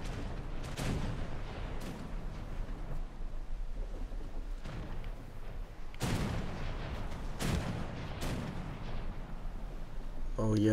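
Ship guns fire in naval combat in War Thunder, several loud broadband booms at irregular intervals over a continuous low rumble of battle noise.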